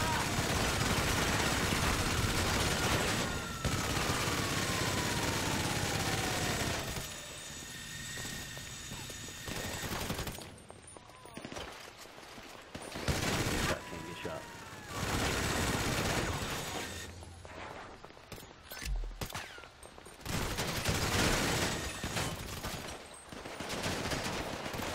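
Sustained minigun fire in GTA 5, a dense continuous rattle dominating the first several seconds, then returning in loud bursts separated by gaps, with a voice talking over parts of it.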